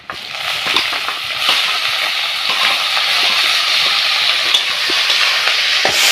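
Potato greens dropped onto garlic and onion already browning in hot oil set off a loud, continuous sizzle, with scraping and stirring taps scattered through it and no talking.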